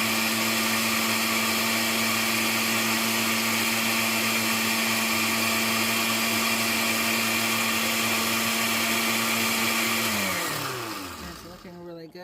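An electric grinder or blender whirs steadily as it grinds dried ghost peppers into a seasoning powder, a loud continuous motor drone for about ten seconds that then winds down and stops.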